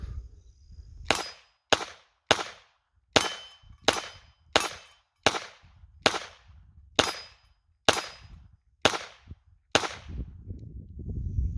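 A .22 pistol fires a string of about a dozen sharp, evenly spaced shots at a cheap steel target plate outdoors, each crack loud and close with a brief ringing decay, and a short pause before the last few.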